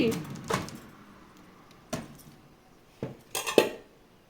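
A metal baking pan of banana bread going into an oven preheated to 180 degrees, with a few separate clanks and clinks of metal and an oven-door knock, spaced apart and moderately close.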